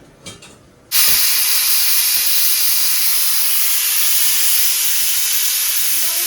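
A pressure cooker cooking chicken biryani releases its whistle: after a few faint knocks, a loud, sustained steam hiss bursts out suddenly and continues steadily to the end.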